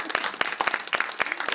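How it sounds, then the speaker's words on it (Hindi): A congregation applauds during a Christmas sermon, a brief burst of dense, irregular clapping that carries on steadily throughout. "तालियां तो बजानी चाहिए"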